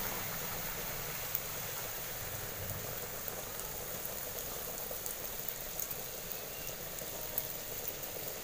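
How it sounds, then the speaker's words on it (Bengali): Luchi fry in hot oil in an old kadai, giving a steady, soft, close sizzle and bubbling hiss with scattered faint pops and no talking. "আমি এদিকে লুচিগুলো ভেজে নিচ্ছি"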